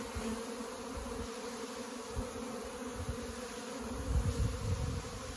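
A honeybee swarm clustered in a cedar tree in autumn gives a continuous, dense buzzing drone, swelling slightly louder near the end, with no voices over it.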